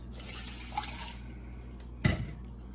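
Two cups of water poured into a pot of rice for a rice cooker, a soft hissing trickle of liquid with a brief splash near the end, close and fairly quiet with no talk.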